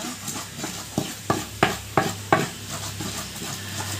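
Nasi goreng fried rice being stir-fried in a pan, a steady sizzle broken by a series of sharp scraping stirs of the spatula, about half a dozen strokes in quick succession, close and alone.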